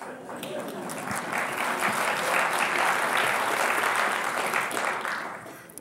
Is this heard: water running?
no